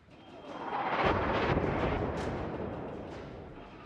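Battleship main guns fire in World of Warships as a deep, rolling boom that swells within the first second, then decays slowly over several seconds, loud and without speech.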